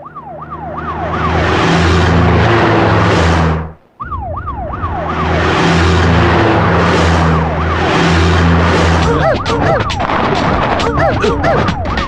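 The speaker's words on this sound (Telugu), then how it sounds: "ఏంటి ఆ సౌండ్? సైరన్ సౌండ్ అండి." A vehicle siren wails loudly and close, sweeping up and down in a rapid repeating cycle. It cuts out briefly partway, then resumes with rattling clicks toward the end.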